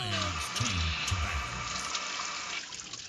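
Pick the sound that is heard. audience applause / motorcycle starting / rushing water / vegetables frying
rushing water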